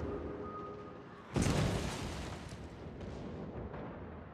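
Naval gunfire in World of Warships during a clan battle: a sudden loud boom hits partway through, followed by a rumbling, crackling wash of shell blasts and distant booms that slowly fade.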